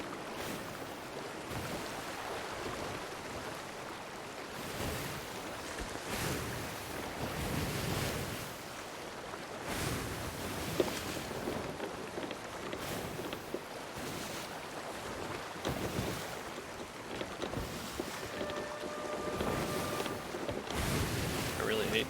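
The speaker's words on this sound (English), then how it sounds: "I really hate sailing against the wind." A ship sails into a headwind on the open sea in the video game Sea of Thieves, with a steady roar of wind and the rolling wash of surf that swells and fades across the whole stretch, nearby and continuous.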